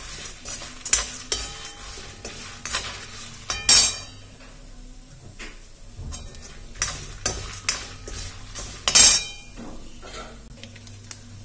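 Tempering spices with asafoetida fry over a low flame in a pan, a soft sizzle broken by repeated scraping strokes and sharp metallic clinks of a spoon against the pan.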